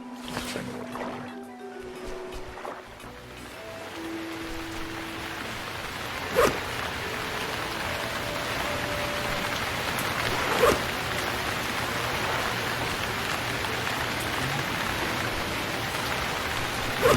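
Rain falls steadily in the survival video game Stranded Deep, a constant hiss of downpour with a few louder thumps and faint rustling underneath, without any speech.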